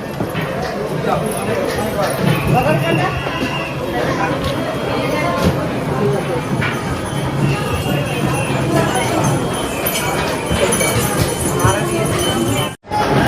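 Horse hooves clip-clop along the crowded Vaishno Devi pilgrimage path in a fairly faint, irregular patter. Throughout, they are half-buried under constant crowd chatter and nearby voices.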